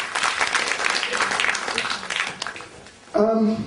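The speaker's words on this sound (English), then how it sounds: "Can you put up a big round of applause for Boishakhi?" Applause from an audience at an Odissi dance performance fills the clip, dense and steady clapping under some background chatter, then a brief lull before a loud burst at the end.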